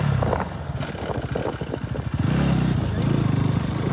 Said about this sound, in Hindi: टंकी के नीचे एबीएस की मोटर की भी आवाज़ आ जाती है।